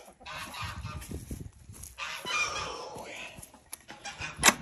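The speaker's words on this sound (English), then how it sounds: "Mine is letting chickens out." Chickens being let out of a coop make loud honking squawks and clucks against yard rustling and scuffling, with a sharp loud call near the end.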